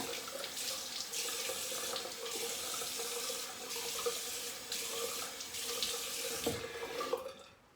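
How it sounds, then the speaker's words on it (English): Tap water runs steadily into a sink, a constant splashing rush with faint clinks, stopping at the end. "So warm water rinse, and after that we'll go with cold."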